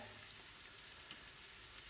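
Young squash and garlic fry in a pan, giving a soft, steady sizzle with small crackles. It is quiet and close, and no one speaks.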